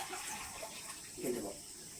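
Water splashes and trickles in a soft, steady pour over faint background hiss, lasting a couple of seconds, as two glasses of water are measured in for every glass of semolina for raw-mango semolina pulihora.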